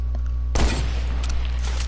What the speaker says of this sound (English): I sniped at someone from far